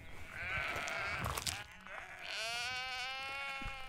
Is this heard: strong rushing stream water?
no